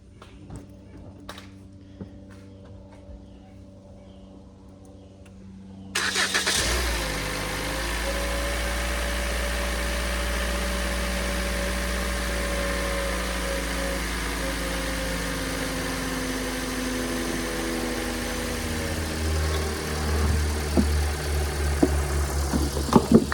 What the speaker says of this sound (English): started the car